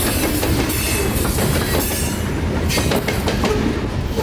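Freight train cars loaded with granite or marble rock roll past close by with a loud, continuous rumble and a rhythmic clatter from the wheels.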